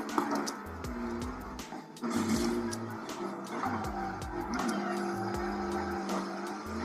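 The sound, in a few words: car drifting with tire squeal in Need for Speed video game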